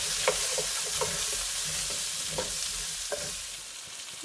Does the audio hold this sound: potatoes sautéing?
yes